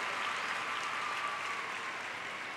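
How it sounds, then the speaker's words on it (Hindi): Applause from an audience welcoming the girls at a Ladli Laxmi scheme event, a steady, evenly dense clapping that is fairly faint and distant, continuous throughout. "एक बार जोरदार तालियां बजा के सभी लाड़लियों का स्वागत करो।"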